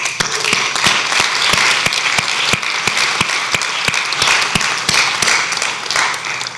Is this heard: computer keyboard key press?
no